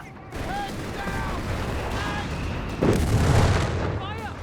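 Battle noise in a WWII tank video game, with a steady rumble of distant gunfire and a heavier explosive blast near the end, beneath a voice commentating throughout.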